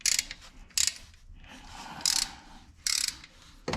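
Torque wrench ratcheting on the drain plug during an oil change on a 2013 Toyota Highlander, heard as several sharp, close clicking bursts separated by softer scraping mechanical noise.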